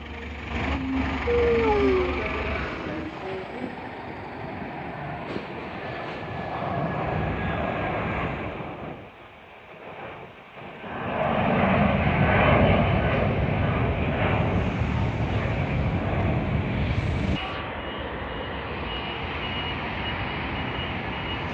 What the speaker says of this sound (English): There's another plane going off.